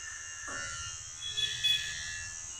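Electric hair clipper running at a village salon, a faint steady buzzing hum that holds throughout, with a few soft handling clicks near the end.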